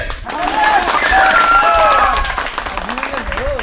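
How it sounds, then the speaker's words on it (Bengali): A group of people clap their hands together before a rope tug-of-war game, a steady patter of claps mixed with shouting voices close by. "হাততালি দাও"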